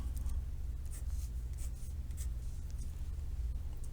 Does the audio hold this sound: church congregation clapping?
no